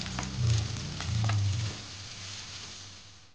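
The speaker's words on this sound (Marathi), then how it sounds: "बारीक कापलेला कांदा टाकूया" Finely chopped onions hit a pan and fry for a chicken curry, with a loud initial hiss and low rumbling thumps of stirring that settle into a steady, softer sizzle.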